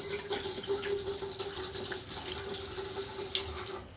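Fuel being poured from a can into a tank, a steady continuous liquid trickle with a faint sustained tone, close by and alone without speech.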